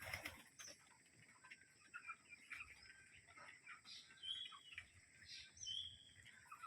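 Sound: pigeons calling on a farm

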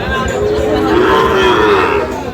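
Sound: cattle mooing at market

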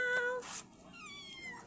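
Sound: pet cat meowing in a new cage

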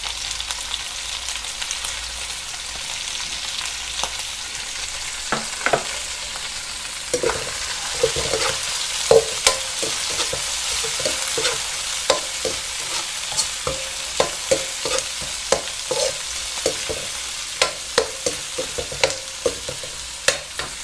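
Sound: cuttlefish stir-frying and sizzling in a pan

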